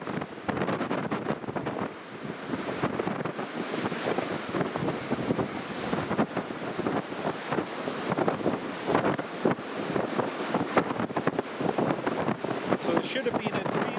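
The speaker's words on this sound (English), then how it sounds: "I hope you're actually able to hear me above all the wind noise" Strong gusting wind buffets a microphone outdoors at Newcastle International Airport during Storm Otto, a loud continuous roar and rumble with someone talking underneath.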